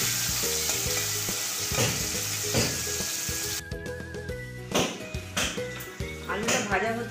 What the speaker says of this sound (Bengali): তেলটা ভালো গরম হলে প্রথমে আমি আলুগুলোকে একটু ভেজে নেব